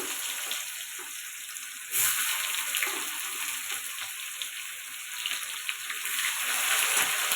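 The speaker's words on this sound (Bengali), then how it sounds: "পেঁয়াজটা লাল লাল করে ভেজে নেব।" Chopped onions frying in oil with cumin, bay leaf, whole spices and dried chillies for a pea ghugni, a soft continuous sizzle with a faint tonal hiss, fairly quiet and steady, no voices.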